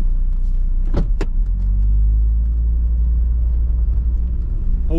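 A Volvo car driving, a steady low road rumble from inside the cabin with a couple of brief sharp clicks or creaks near the start.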